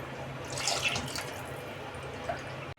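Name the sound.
water being poured into rice pot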